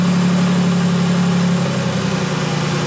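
A Nissan 300ZX Z32 engine idles steadily at close range, a constant low mechanical hum with a faint vibrating texture and no voices.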